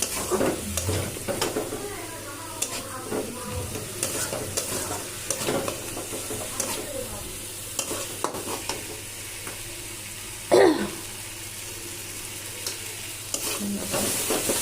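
Food being stir-fried in a pan with water and coriander added, a constant moist sizzle under repeated scraping and stirring strokes, close and fairly loud, with one sharp clatter partway through and no talk.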